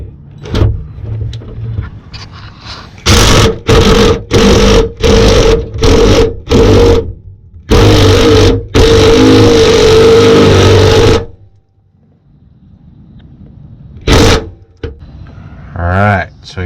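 An impact driver tightens fuel cell straps in a series of loud, close bursts of rapid hammering, several short pulses then a longer run, followed by a lone final burst, with quiet talk between.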